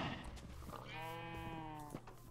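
A single drawn-out sheep bleat in the Minecraft video game, clear and close over a faint background hum.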